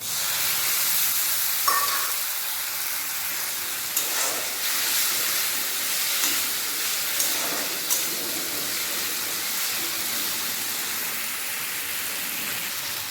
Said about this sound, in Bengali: টমেটোটা দিয়ে টমেটোটা ভালোভাবে ভেজে নেবো